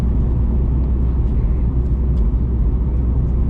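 Steady low engine and road rumble inside a Subaru Impreza WRX STi Ver.9 "Hawkeye" cruising in sixth gear at about 70 km/h, a constant droning hum with tire noise and no talking.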